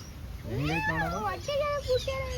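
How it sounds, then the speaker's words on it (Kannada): A Persian cat gives a drawn-out, wavering meow followed by a couple of shorter mews, close by, over a steady background hum. "Persian cat"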